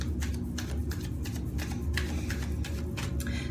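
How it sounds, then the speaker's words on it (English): Tarot cards being shuffled by hand, a steady run of soft papery riffles and flicks close up, continuous with no talking. "as I'm shuffling the cards"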